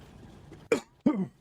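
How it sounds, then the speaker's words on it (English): A man coughing twice in quick succession, close to the microphone, with short harsh bursts over quiet room background. "Sorry about the coughing, guys."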